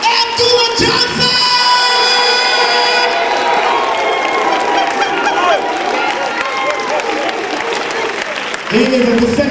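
A lecture audience welcomes Dr. Umar Johnson to the stage with loud, sustained applause and cheering, mixed with honking, horn-like tones and voices calling out.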